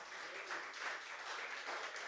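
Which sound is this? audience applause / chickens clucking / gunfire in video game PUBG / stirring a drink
audience applause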